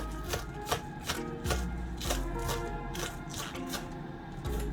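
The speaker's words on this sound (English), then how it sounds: "I'm chopping up some scallion to add in my cabbage mixture" A knife chops scallions on a cutting board in quick, regular close strokes, each a crisp tap, forming a steady rhythm over a quiet kitchen background.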